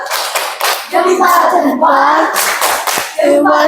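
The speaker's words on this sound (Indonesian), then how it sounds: "Kita kasih tepuk jempol teman-teman." A group, including children, performs a 'tepuk jempol' thumbs-up clap cheer at a school session: loud, rhythmic rounds of clapping mixed with chanting voices close by.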